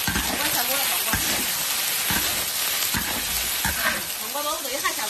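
Food drops into hot oil at a gathering at a farm cabin and sets off a steady, close sizzle with bursts of bubbling and stirring. People chat over the frying.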